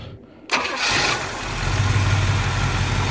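A cold 1970 Pontiac Firebird Formula 400 V8 cranks briefly, catches with a loud roar and settles into a steady rumbling idle without choke, close and alone.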